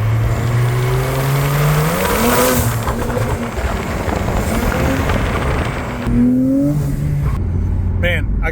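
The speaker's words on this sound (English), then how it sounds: "I want to hear these turbos." A Porsche 992 Turbo revs and accelerates loudly nearby, its engine pitch climbing and falling through several pulls, with a faint tire squeal and talk over the roar.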